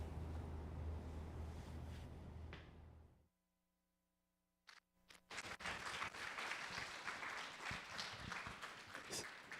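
Audience applause at a fundraiser breakfast: dense, steady clapping from a room full of people that drops to near silence, then a few claps return and swell back into sustained applause with murmuring voices.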